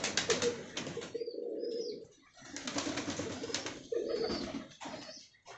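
A pigeon in a home breeding setup coos softly in repeated phrases, with bursts of wing flapping between calls, close and fairly quiet.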